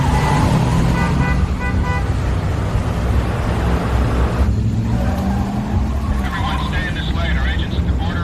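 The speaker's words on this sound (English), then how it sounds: "It looks like they're stuck in a big traffic jam that they weren't expecting." Cars sit in a heavy traffic jam at a Mexican border crossing, with short horn toots repeating over a dense, close engine drone and talk underneath.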